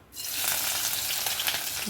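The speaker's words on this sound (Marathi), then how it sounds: "कढईमध्ये आता मी हे बघा पहिला कांदा घालणार आहे कढईमध्ये दोन चमचे तेल घातलेलं आहे" Chopped onion drops into two spoons of hot oil in a kadhai, starting a loud, steady sizzle that bursts in abruptly and holds close and even for the rest of the moment.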